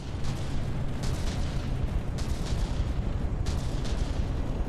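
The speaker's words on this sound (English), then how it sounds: "There the guns come online again." Warship guns in From the Depths battleship combat, a dense continuous roar of booming artillery with repeated bursts, loud and close, no voices.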